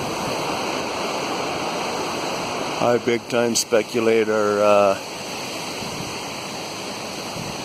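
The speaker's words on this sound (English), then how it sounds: "it's really still pounding out a lot of water this year" River in spring runoff, a steady loud rush of pounding water filling the whole stretch, with someone speaking briefly over it partway through.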